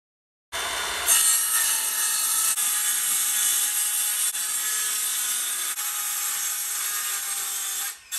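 A saw cuts through wood in a do-it-yourself SUV camping build, giving a loud, steady, close rasping drone with brief dips in its strokes before it cuts off near the end. No voices are heard.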